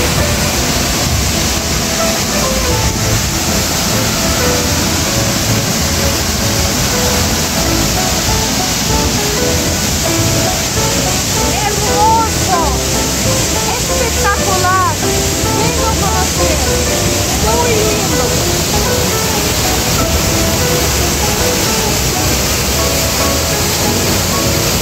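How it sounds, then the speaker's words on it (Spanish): Large waterfall on the Mojanda River near Quito, roaring steadily and loudly as a dense, continuous rush of falling water throughout. "Por eso se dice Cascada Grande, mira cómo es."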